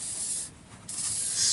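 Penetrating spray hisses from an aerosol can onto the downstream oxygen sensor of a 1999 Toyota Camry, two close bursts of hiss separated by a short pause.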